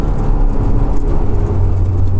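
Honda S2000 AP1 engine running loud and steady, a continuous low droning roar without a clear rise in pitch across the short stretch.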